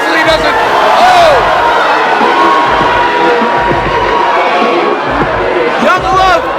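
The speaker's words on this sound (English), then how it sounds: "The crowd loving Young Love!" Wrestling crowd cheering and shouting at a Rumble in the Dot 2018 independent show, a loud, continuous roar with rises and bursts, an announcer talking excitedly over it.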